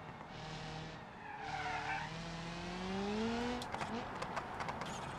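A car in BeamNG.drive, suffering gearbox synchronizer damage, drives through town as its tires squeal in long rising skids that swell to loud and then break off. Engine noise sits beneath, with talk over it.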